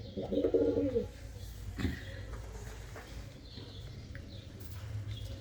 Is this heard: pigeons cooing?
yes